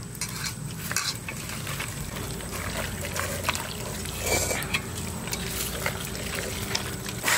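Pieces of country rooster meat are mixed by hand with ground black pepper paste and mustard oil, producing continuous soft squelching and stirring with occasional clinks of utensils against a bowl.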